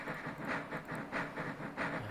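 A grain-hauling train runs in the transport game OpenTTD, giving a regular clickety-clack rhythm of wheels over rail joints, repeating about every quarter second at a steady, moderate level.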